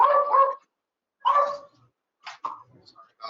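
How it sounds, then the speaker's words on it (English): Dog barking at home during an online council meeting: two short, close bark-like bursts, then fainter yips and whimpers, with no other sound between them. "Hold on, I gotta get my dog."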